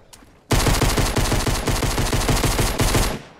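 Rapid automatic gunfire in the video game Fortnite: Battle Royale, a loud dense burst of close shots in a fast even rhythm lasting nearly three seconds after a quiet start.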